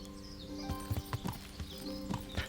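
Horse hooves in the medieval video game Kingdom Come: Deliverance, a steady clip-clop of a few hoofbeats each second over a low continuous game hum, moderately close.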